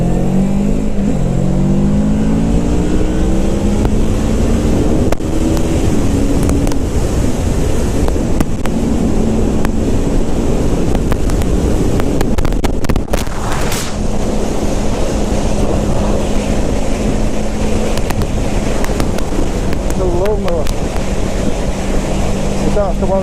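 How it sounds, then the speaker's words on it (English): A Kawasaki ER6f / Ninja 650R motorcycle accelerating down a slip road onto a dual carriageway, its engine note rising and shifting under loud, constant wind roar, with a rider's voice over it. "Let's just see what it's like accelerating down a nice slip road onto the dual carriageway."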